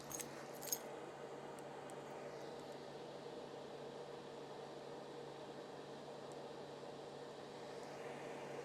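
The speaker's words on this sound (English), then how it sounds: "Let me get the keys." A set of car keys jangles briefly near the start, a short metallic clink over the steady hum of an idling vehicle and a running AC recharge machine in a garage, with the drone continuing alone afterward.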